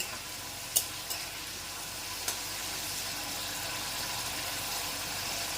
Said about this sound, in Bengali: এবারে আমি ফ্লেমটা হাই করে দেবো নাড়াতে থাকবো